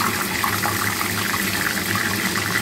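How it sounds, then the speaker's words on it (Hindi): Tap water running steadily over tomatoes being washed, a constant close splashing gush with no pauses. "तब तक हम टमाटर अच्छे से धो लेंगे"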